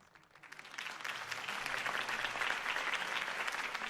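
Crowd applause at a campaign rally in Batman: The Telltale Series swells from quiet into steady, dense clapping that holds for several seconds, distant and fairly faint.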